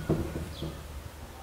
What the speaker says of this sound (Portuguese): esse é o som da porta que está atrás de mim